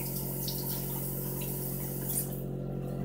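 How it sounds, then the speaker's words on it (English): Running water wets a Sigma Spa brush cleaning glove and makeup brush bristles, a steady close hiss and patter that continues alone throughout. "just wet the glove, wet the bristles"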